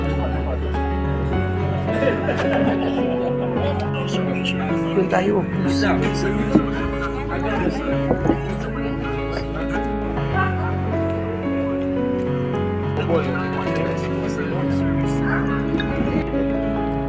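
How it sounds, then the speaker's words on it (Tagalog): A dog barks a few times on a farm in Tarlac City, Philippines, over steady background noise, with people talking throughout. "Tumatahol na."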